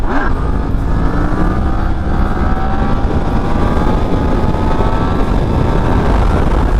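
Yamaha MT-10 1000cc naked motorcycle accelerating in third gear from a roll into a wheelie, its engine roaring loud and close with rising pitch over heavy wind buffeting, continuous for several seconds without talk.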